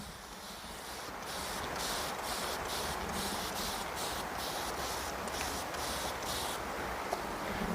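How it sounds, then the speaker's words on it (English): A steady hiss of fine spraying fills the clip, with rhythmic bursts of mist from a spray bottle, close and fairly quiet. "I got my little handy dandy spray bottle. We're gonna go ahead and spray it on in."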